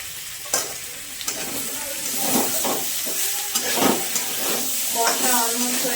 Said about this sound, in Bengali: আবারও মশলার সাথে কষবো, ওই 1-2 মিনিট মতো কষবো।